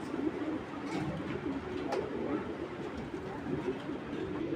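Racing pigeons cooing in a loft: soft, low, repeated throaty coos sound at a moderate distance over a faint background murmur.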